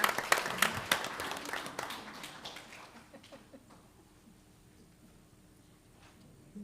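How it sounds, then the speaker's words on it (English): Crowd applause at a school board meeting honoring school principals and the assistant principal of the year, starting loud and dense with sharp claps, then thinning to scattered claps and fading out after about three seconds. "Let's give a round of applause to our amazing principals and our assistant principal of the year"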